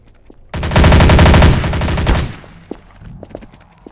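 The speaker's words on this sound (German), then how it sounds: "Ja, da schießt." Rapid automatic gunfire in the multiplayer shooter game Trouble in Terrorist Town, a loud dense burst lasting about two seconds, then fading into scattered faint clicks and softer shots.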